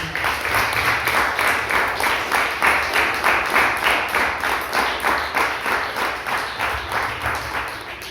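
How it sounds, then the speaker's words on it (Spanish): A church congregation claps in a steady, rhythmic beat of many hands, loud and sustained throughout. "Déselo fuerte el aplauso al Señor."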